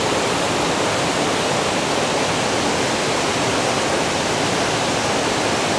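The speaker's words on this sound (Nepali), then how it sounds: "हेर्नुहोस् है कस्तो गजबको छ यो कलिङ्गमो छाँगो।" Kalingmo waterfall at Okhreni near Kathmandu roars in a dense, continuous rush of falling water, loud and steady throughout with no voices.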